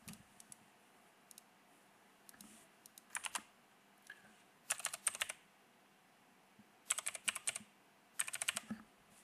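Several short bursts of typing on a computer keyboard as a property code is entered, crisp close clicks in quick clusters separated by pauses, quiet with no talking.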